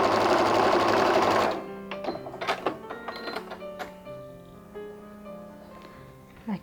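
Sewing machine stitching seams on a patchwork quilt table runner, a fast even motor whir lasting about a second and a half, then stopping, followed by quiet clicks and handling sounds close by.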